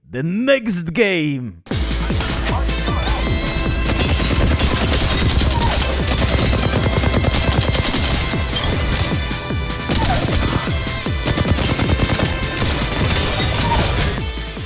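Gunfire in Apex Legends, a dense, loud barrage of rapid shots and impacts that runs almost unbroken for over twelve seconds after a short burst of game sound, with faint talk underneath.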